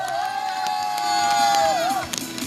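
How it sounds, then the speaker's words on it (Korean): An outdoor crowd at a rainy candlelight rally in Gimcheon cheers to welcome a speaker, a loud sustained roar with a long steady whistle-like tone riding over it and a few scattered sharp hits, voices mixed in. "큰 박수로 모시겠습니다"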